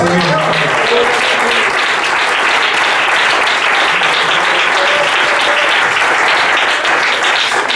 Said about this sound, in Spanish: Denle ofrenda de palmas al Señor.